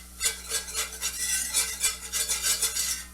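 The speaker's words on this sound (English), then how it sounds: "We're going to whisk that in." A whisk beats powdered vegetable broth into a flour roux in a pan, giving quick rhythmic scraping and clicking strokes up close, with no talking.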